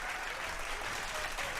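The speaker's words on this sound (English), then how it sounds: "Round of applause, my friend." A crowd claps in a steady, even patter of applause for the whole short stretch, fairly quiet and with no voices over it.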